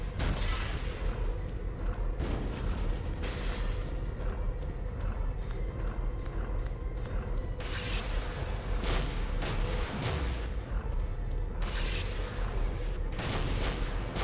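Shots fired at a boss in the video game Spyro: A Hero's Tail, with repeated heavy booming bursts over a dense, constant game soundscape, the blasts coming at irregular intervals throughout.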